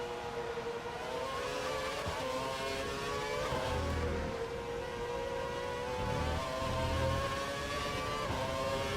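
Race car engine at Spa in the F1 2012 video game, a high steady whine that twice drops in pitch as the throttle is lifted and then climbs back, loud and continuous with no voices.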